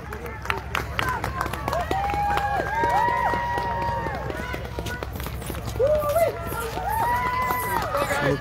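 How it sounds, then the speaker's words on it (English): Spectators call out and cheer along the trail at a sled dog race, the Fur Rondy Open World Championship in sunny weather, a steady crowd murmur with scattered shouts and a commentator talking over it. "People are cheering along."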